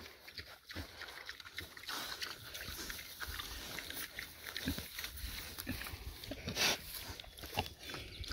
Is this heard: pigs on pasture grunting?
yes